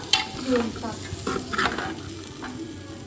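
Water is poured into pulao frying in a pan, setting off a burst of hissing sizzle and bubbling with some stirring scrapes, while a voice speaks faintly in the background.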